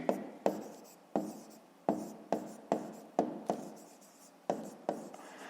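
A pen scratches across notebook paper in a series of short strokes, roughly a dozen quick bursts with small gaps, close and quiet while working a fifth-grade math exercise.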